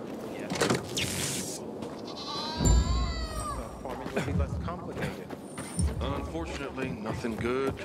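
Goat bleats in the Dying Light 2 video game, wavering calls heard amid game sounds and mechanical noises while people talk over them throughout.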